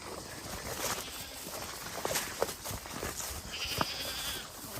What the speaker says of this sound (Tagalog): kaingay ng kambing nila.